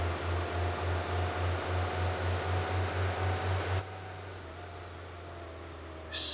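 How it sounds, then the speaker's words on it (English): A car in the video game My Winter Car gives off a low droning hum that throbs in a steady rhythm, then settles into a flatter, quieter drone. "Don't like that like humming noise that the car's making."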